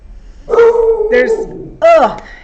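Indoors, a dog barks at someone making a delivery, giving a few loud close barks and yips in short bursts. A person may be talking nearby.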